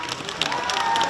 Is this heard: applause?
yes